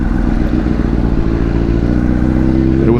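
A motorcycle engine that had been misfiring on a dead, non-charging battery runs steadily at close range, a continuous low throbbing idle with no talk over it.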